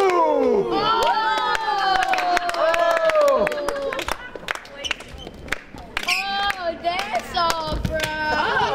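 Crowd of school students at a dance battle clapping, sharp claps scattered beneath loud shouting and sing-song voices that dominate the scene.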